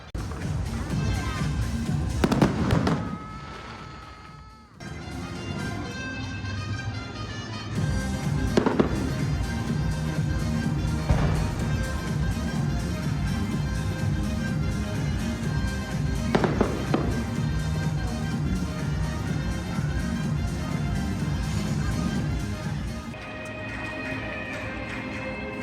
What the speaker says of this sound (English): We came back to Zootopia to see if we could catch the fireworks with the Zootopia city in the background.